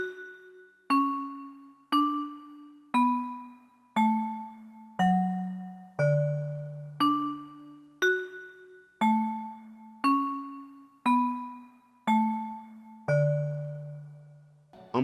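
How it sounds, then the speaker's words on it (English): A bell sample plays a steady melodic pattern in FL Studio, roughly one clear struck tone per second, each ringing and decaying before the next, alone and fairly loud. "On pattern 16, we have this bell sample, and this pattern"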